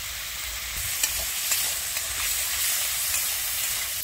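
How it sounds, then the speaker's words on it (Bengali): Chopped onion, green chili and tomato fry together in a pan with salt, giving a dense, steady hiss and sizzle with faint stirring taps throughout, close and without speech. "তো এগুলোকে সবগুলোকে দিয়ে দিলাম একসাথেই। তো লবণ অ্যাড করে দিলাম।"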